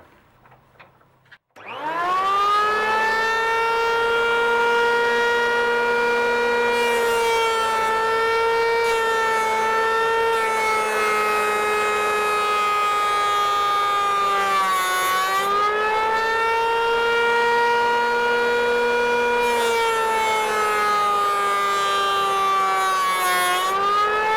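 A Tekhmann TP-82/1050 S electric planer starts up after a brief quiet moment, then runs with a loud, sustained high motor whine that dips and recovers around the middle, with no talk.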